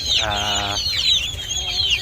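Free-range village hens cluck close by while eating fermented bran and banana stem feed, with a short rapid clucking burst and scattered bird calls over constant farmyard noise.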